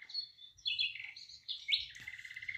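Small birds, including sparrows, chirp at a bird feeder in a home courtyard, giving quick, bright, twittering calls in short bursts that overlap, fairly close and moderately soft.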